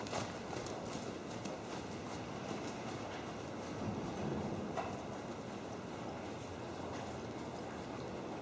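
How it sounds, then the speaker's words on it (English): A ridden horse trotting during a riding clinic, steady rhythmic hoof beats under continuous broad outdoor noise, moderately near. "And now let him trot toward that."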